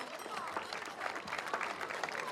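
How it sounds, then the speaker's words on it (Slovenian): An audience claps for a kindergarten group from a primary school as the children move to the stage at a carnival event; dense, steady applause with crowd murmur and voices mixed in. "Pa jim zaploskamo, da jim bo šlo lažje do našega prizorišča"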